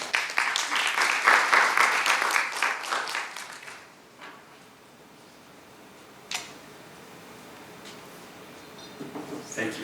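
Audience applause at an academic forum on platform co-operativism, a dense burst of clapping for about four seconds that stops abruptly, followed by near silence with a few faint knocks and rustles.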